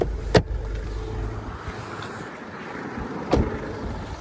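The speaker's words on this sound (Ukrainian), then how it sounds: "Зараз автомобіль у нас заведений, працює чітко, рівненько, як можете чути." A Nissan Qashqai+2 2.0 dCi diesel engine runs at a steady idle, a low continuous rumble with a couple of brief clicks, no talking.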